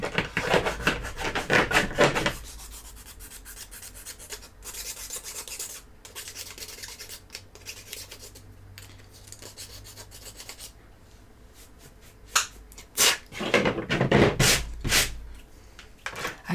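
A hand rubs and scrapes hard across a table surface crusted with years of old glue, with harsh rasping strokes at the start and end and quieter scuffing in between.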